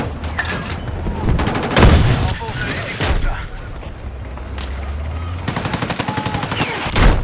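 Gunfire crackles in a Battlefield match, with bursts of automatic shots and heavy booms, loud and close, ending in a rapid rattling volley.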